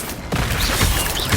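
Incendio fire spell cast in the Hogwarts Legacy video game, a loud whooshing burst of flame that flares after a brief quiet start and roars steadily for about a second with crackling texture.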